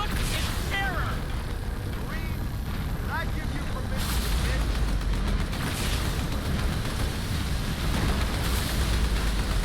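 Heavy booming blasts from a Scarab gun fired at a Scarab in Halo 2, the bursts arriving in loud waves over dense game noise, with a few whistling effects early on.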